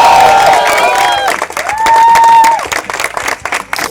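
An audience at a Gujarati film premiere of Misri bursts into loud applause and cheering, with whoops and shouts rising over dense clapping from a nearby crowd.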